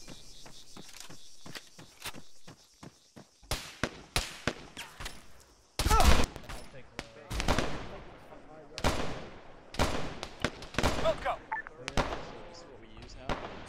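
Gunfire in the military video game ArmA 3 cracks out in scattered single shots and quick bursts, some sharp and close, others softer and distant, with irregular pauses.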